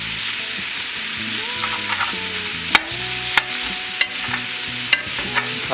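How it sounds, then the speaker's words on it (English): Ground meat for a meat lovers pizza, seasoned with salt and pepper, sizzles steadily in a pan while a utensil breaks it up, with sharp scraping clicks and knocks against the pan and no talking. "Kind of break up the meat as it cooks."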